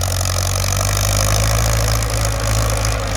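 A Ford tractor engine runs at a steady idle, a close, constant low rumble with no breaks.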